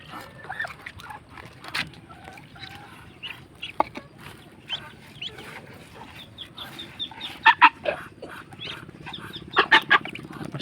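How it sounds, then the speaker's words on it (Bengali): Chinese ducklings and grown ducks crowd around food being handed out, giving a steady stream of quick peeps and clucking calls nearby, with a few louder bursts of calling toward the end. "হাঁসের বাচ্চাগুলোকে খাবার দিয়ে নিই"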